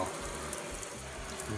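Kitchen faucet sprayer running water into a sink during a faucet and drain replacement, a steady close hiss of flowing water at low volume, with no talk.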